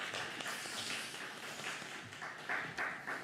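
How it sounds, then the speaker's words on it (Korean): Congregation clapping in a church during a Sunday service, a steady crowd of hand claps carrying on throughout at moderate level. "여러분 박수 한번 우리 부탁드리도록 하겠습니다"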